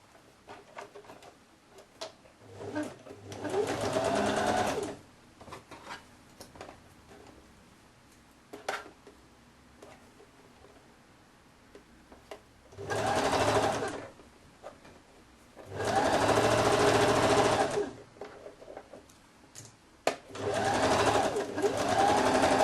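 A sewing machine stitches the shoulder seam of a women's blouse with a Peter Pan collar in four separate bursts of rapid, buzzing needle strokes, with quiet handling and faint rustling between runs.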